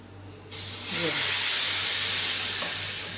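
Garlic hits hot oil with a sudden loud sizzle that starts abruptly, stays strong and hissing, then slowly eases; a voice briefly murmurs underneath.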